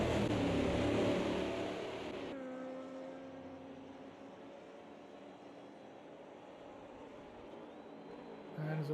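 Race car engines in an endurance round at Spielburg, with a loud roaring pass that cuts off sharply, then a quieter steady whine from cars further around the track, and a brief bump in loudness at the end.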